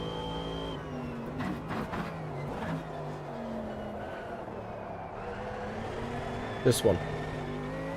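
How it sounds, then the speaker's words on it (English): Race car in the Automobilista 2 racing game, its engine droning and shifting pitch as traction control cuts in with a raspy scratching edge, with someone speaking briefly over it. "What is nice to hear the traction control working on the car."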